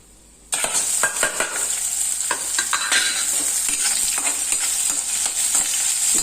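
Small onions and curry leaves hit hot oil with a sudden loud sizzle that keeps up steadily, broken by frequent scraping stirs of a spoon against the pan, with no voices.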